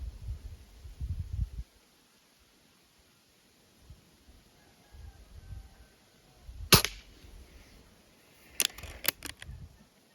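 Sharp, close shots from a Soviet-era IZh-38 air rifle crack out: one sharp snap, then a quick cluster of three, over quiet background rumble.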